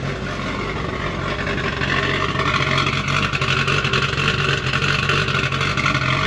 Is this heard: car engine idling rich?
yes